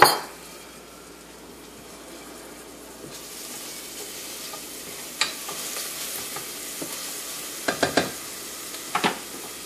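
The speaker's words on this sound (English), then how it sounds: "So I'm going to add about 3 cloves of garlic." Minced garlic sizzles over low heat in a pan for low-carb enchiladas, a soft continuous frying hiss broken by a few sharp clinks of a utensil against the pan.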